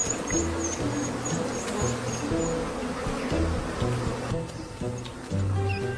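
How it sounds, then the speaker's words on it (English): Swarm of African honeybees buzzing continuously in the wild, a steady droning hum with layered wingbeat tones, fairly loud and close throughout. "African honeybees sting 10 times more frequently than their European cousins."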